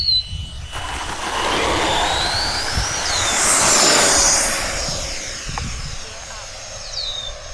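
A small jet aircraft passes overhead and comes in to land on a windy northern lakeside strip, a broad roar swelling to a peak and fading away, with a rising whine on top.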